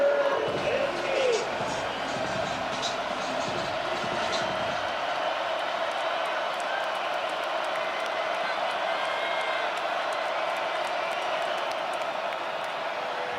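A football crowd at Nippert Stadium for Iowa State against Cincinnati roars in a steady distant wash, with a brief burst of cheering and thumps at the start that settles into a sustained stadium din.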